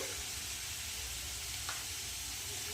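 Mixed vegetables sizzle and fry in a pan with steady, crackling oil spatter, close and continuous, with a brief stir partway through and no talk.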